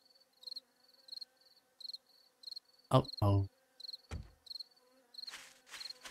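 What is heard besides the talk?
bees buzzing in the video game 7 Days to Die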